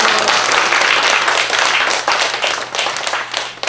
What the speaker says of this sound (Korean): 이 박수는 최고예요